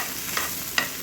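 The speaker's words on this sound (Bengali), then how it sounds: "এবার এটাকে ভালো করে নাড়াচাড়া করে নিতে হবে।" Roasted peanuts stirred into sabudana khichdi in a pan, a soft steady sizzle with two brief scraping strokes of a spoon, close and without talk.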